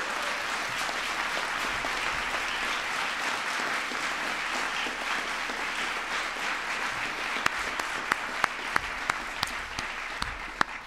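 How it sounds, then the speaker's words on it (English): Sustained applause from a large crowd at the 2013 White House Science Fair fills the whole stretch, steady and dense, with a few sharper individual claps popping out near the end. "Give yourselves a big round of applause as well."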